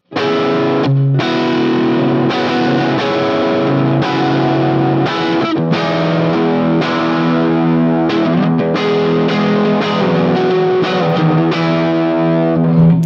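Heavily distorted electric guitar chords through a neck pickup are struck one after another, loud and close, each ringing out before the next hit.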